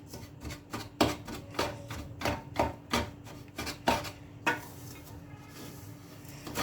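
A spoon scrapes and stirs a semolina ladoo mixture in a pan over a low gas flame. The strokes are sharp and rhythmic, roughly two per second, and they are close and moderately loud. A softer, smoother scraping follows at the end, with no talking.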